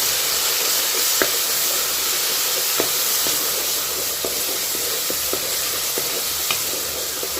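Onions, tomatoes and green chillies sizzle steadily in a hot pan, a constant hiss broken by occasional light clicks of stirring.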